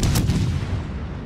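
Warship artillery in a naval video game, the Stock Amalfi cruiser: one loud, deep boom of a gun salvo that rolls off into a fading rumble.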